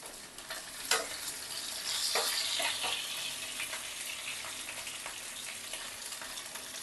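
Potatoes frying in white oil with salt, a steady close sizzle broken by several sharp stirring scrapes and clicks of a utensil against the pan.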